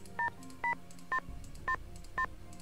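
Telephone dialing in the Nancy Drew game Stay Tuned for Danger: five evenly spaced touch-tone beeps, each short and clear, over a quiet background.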